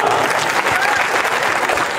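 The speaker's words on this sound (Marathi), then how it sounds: "यांच्यासाठी जोरदार टाळ्या वाजवा." Steady applause from a crowd at a political protest march in Ahilyanagar, dense clapping at an even level for the whole short stretch.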